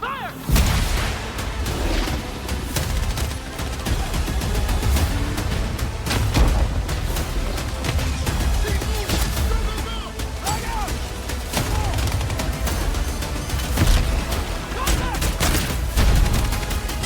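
Dense gunfire and artillery in the video game Battlefield 6, loud continuous battle with rapid shots, booms and crashes throughout, with shouted voices mixed into the chaos.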